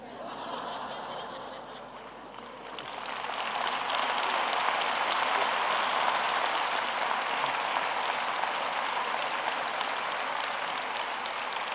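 Applause rises from a crowd at a political speech in Seville, building after a quieter start into sustained clapping mixed with scattered laughter.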